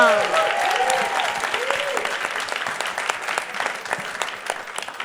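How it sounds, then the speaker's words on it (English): Audience at a music-industry panel claps steadily for about five seconds, a dense, moderately loud applause, with a brief voice and some tonal sounds audible at the very start. "Y'all clap it up for Wes one time."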